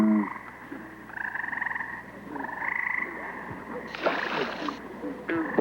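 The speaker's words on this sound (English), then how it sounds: "Bullfrogs vary a lot in size and color" Bullfrogs croak at a pond at night, several loud, close, repeated throaty calls in rhythmic bursts, with a brief splash partway through.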